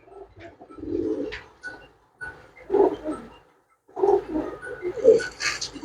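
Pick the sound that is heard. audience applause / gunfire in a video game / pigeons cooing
pigeons cooing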